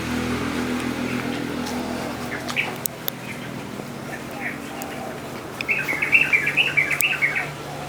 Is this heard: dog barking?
no